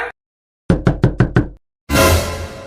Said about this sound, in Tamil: இது எப்படி கதவு ரெண்டு தட்டு தட்டி